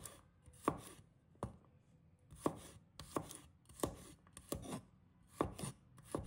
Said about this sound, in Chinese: 一把大蒜也切成片